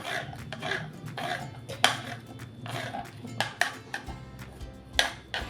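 A knife chops through shevala, a soft wild vegetable, on a board in a home kitchen, giving sharp irregular taps and clacks with a few louder knocks, plus faint background noise.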